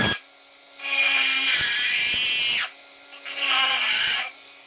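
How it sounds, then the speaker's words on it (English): A Dremel rotary tool cuts through stainless steel in two separate bursts. Its high whine drops in pitch as the cutting wheel bites into the metal, then eases off between cuts. The sound is close and loud. "We're cutting it out with a Dremel."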